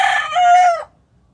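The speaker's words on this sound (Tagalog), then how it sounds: "tingnan nyo mga boss yung mga manok ko" A rooster crowing among chickens, one close, loud cock-a-doodle-doo lasting under a second, then quiet.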